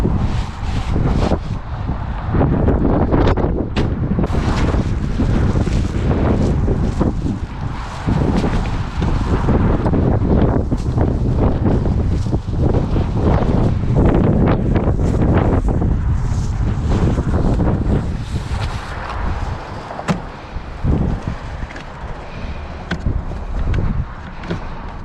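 Strong gusting wind roars and buffets a microphone outdoors in the rain beside a Toyota GT86, loud and continuous for the whole stretch, easing slightly near the end.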